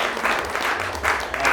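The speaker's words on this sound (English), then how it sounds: "Round of applause for yourself for being here." Audience applause at a tech demo event, a steady wash of many hands clapping that fills the moment evenly at moderate volume, with no voices heard.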